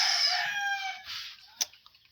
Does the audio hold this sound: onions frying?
no